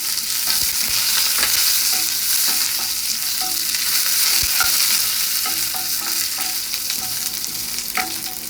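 Curry leaves fry in hot oil for a Kerala-style sambar, giving a loud, steady sizzle close up. A few light stirring taps sound over it, and nobody speaks.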